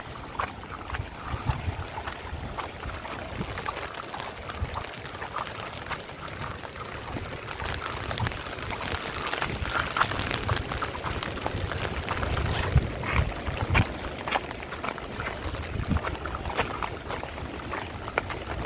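Continuous broad rush of a flooded village river's fast-moving water mixed with wind buffeting the microphone, steady and fairly loud throughout.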